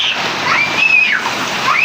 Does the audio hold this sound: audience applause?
no